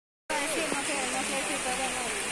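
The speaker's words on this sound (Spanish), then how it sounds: "Empezó a llover." Rain begins falling at an outdoor organic agroecological market, a steady broadband hiss of drops starting abruptly after a moment of silence and continuing evenly, with faint voices and birdlike chirps in the background.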